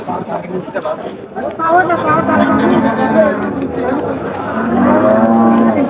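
Cattle low and moo at the Barobazar livestock market in Kaliganj, Jhenaidah, with drawn-out calls rising over busy crowd chatter and nearby voices.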